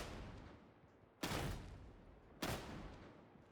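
Two sharp, loud shotgun blasts roughly a second apart ring out in Warhammer 40K: Darktide, each with a quick decaying tail over a low background rumble.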